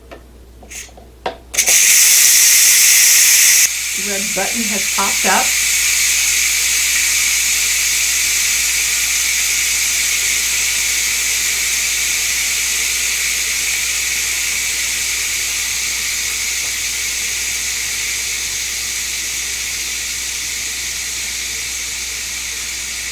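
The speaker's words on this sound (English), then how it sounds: "what I need to do is let the steam out" Steam vents from a Ninja Foodi pressure cooker cooking baby back ribs, a loud, steady, close hiss that bursts on and continues unbroken, with brief speech at the start and a few faint beeps.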